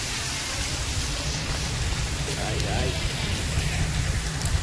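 Rain falls steadily and evenly, a dense hiss that stays close and constant throughout with no clear breaks.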